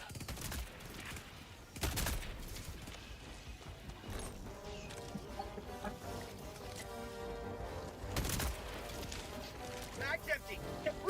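Gunfire bursts in the Helldivers 2 video game, with a couple of sharp loud shots and scattered rattling fire amid game sounds and effects.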